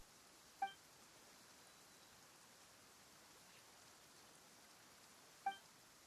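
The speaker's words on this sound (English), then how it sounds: "Why is it raining all of a sudden?" Soft, steady hiss of sudden rain falling in Genshin Impact, faint and even throughout, with two short bright chime-like tones standing out above it.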